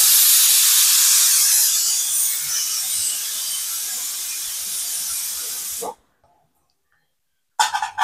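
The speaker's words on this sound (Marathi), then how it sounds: "आपला टोपच कुकरमध्ये ठेवलाय आणि ह्याला झाकून ठेवूया आणि छान अशा 2 शिट्या करून घेऊया" A pressure cooker on a gas flame, cooking vegetables, lets out a loud, sustained steam hiss for about six seconds, stops abruptly, then gives a short second burst.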